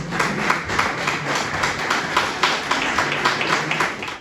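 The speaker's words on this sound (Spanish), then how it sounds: "Un aplauso grande a este fenómeno" Steady audience applause for a folk singer at an Asturian tonada festival, dense clapping from a crowd that holds evenly for several seconds with no speech over it.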